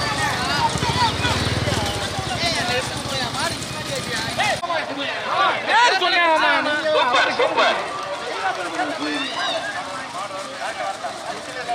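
Hoofbeats of racing bulls clatter along a road during a bull race in Thirumayam, Tamil Nadu, amid a noisy crowd, with people shouting and calling out over the running animals.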